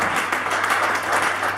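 A congregation claps hands together during a church service, a steady dense patter of applause filling the room for under two seconds with no break.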